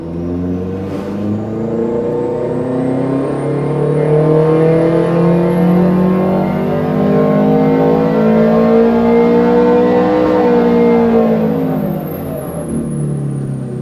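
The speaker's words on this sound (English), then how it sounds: "So let's do a run on our dyno now" A loud car engine revs steadily upward through the gears in one long sustained pull on a dynamometer, droning and rising in pitch before easing off at the end.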